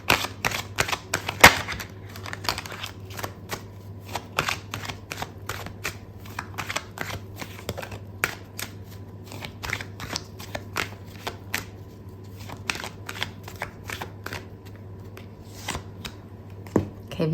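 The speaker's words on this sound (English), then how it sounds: "I'm going to pull out another card for you." Tarot cards are shuffled and pulled from the deck, giving a long run of crisp riffles and snaps at close range, mostly alone, with a steady low hum underneath.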